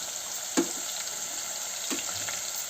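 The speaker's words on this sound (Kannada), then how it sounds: "ಬೀನ್ಸು ಚೆನ್ನಾಗಿ ಫ್ರೈ ಆಗಿ ಸ್ವಲ್ಪ ಫ್ರೈ ಮಾಡ್ಕೊಂಬಿಡೋಣ." Beans fry in a pan with a steady, close hiss that runs without a break, broken by two brief clinks or stirs.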